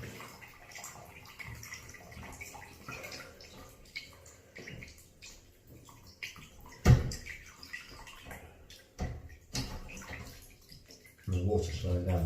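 Water trickles and splashes from a radiator valve into a container during radiator removal for decorating, a quiet uneven pour with occasional louder splashes and knocks, while a person talks at intervals.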